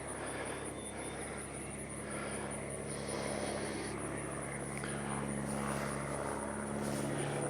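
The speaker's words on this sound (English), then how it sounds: "you're flying less than 200 feet off the ground with a bunch of spray bars under your airplane" A low-flying crop-dusting propeller airplane with spray bars drones steadily overhead, its engine growing slightly louder toward the end against a constant high whine.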